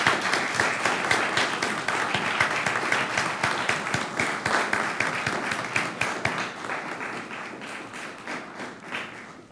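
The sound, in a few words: enthusiastic applause for parents and family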